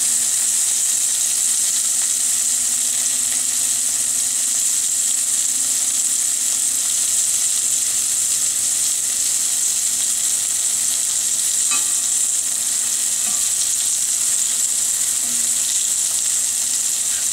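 Saganaki cheese browns in a pan on a medium-high stove, giving a loud, steady, even sizzle that runs unbroken throughout with no one talking.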